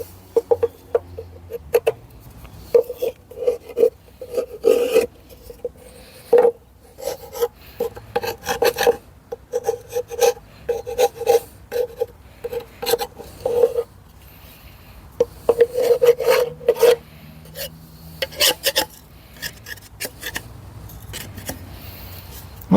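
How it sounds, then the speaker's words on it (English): Old wax being scraped off AŽ beehive frames, irregular bursts of close, gritty scraping strokes with short pauses between them, steady through the stretch and no speech. "Do some of the cleaning of the this old wax to remove."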